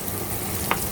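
Onions fry in hot oil with a soft, continuous sizzle, close by, brief and steady with a single small pop near the end.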